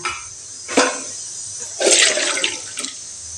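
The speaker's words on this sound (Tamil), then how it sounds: "இது நல்லா இப்படி வடிகட்டிடலாங்க." Water rushes and drains as soaked red poha (flattened rice) is strained, coming in two gushing bursts with a trickle between, close and fairly loud with no talking.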